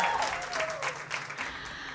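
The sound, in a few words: audience applause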